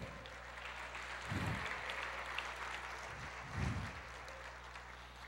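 A church congregation claps in two short bursts of applause, the first around a second and the second a little later, under a quiet background hum.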